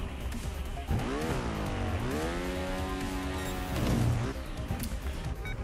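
A motorbike engine in the video game Trials Fusion revs hard through several rising and falling throttle sweeps, a buzzing, harmonic whine that climbs, dips and climbs again before cutting back.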